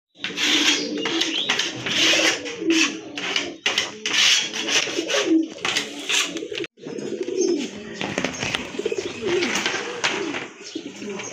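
Pigeons kept by a breeder coo repeatedly in overlapping rhythmic bursts, close and fairly loud, with their calls filling the space and no talking.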